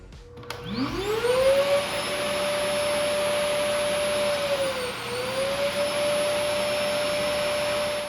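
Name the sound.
Samsung Bespoke Jet AI vacuum cleaning station noise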